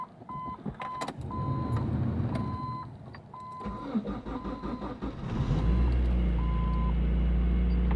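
A 1.8-liter four-cylinder Mazda engine cranks and catches on a cold start partway through, settling into a steady, loud idle after a stretch of clicking and repeated warning chimes.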